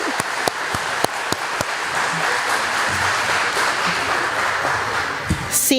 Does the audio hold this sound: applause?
yes